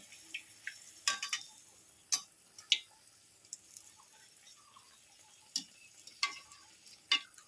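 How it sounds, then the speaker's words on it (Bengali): Battered eggplant fritters frying in hot oil as oil is spooned over them, giving quiet scattered crackles and sharp pops with gaps of near silence between, close by and without talk. "উপর থেকে এইভাবে তেল দিয়ে দেবো দেখুন তেল দিলে নিজে থেকে কেমন ফুলে উঠবে"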